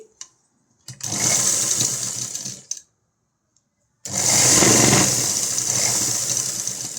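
A sewing machine stitches the shoulder seam of an umbrella-style long frock in two steady runs, a whirring hum of nearly two seconds, a short pause, then a longer stretch at a similar close, even pace.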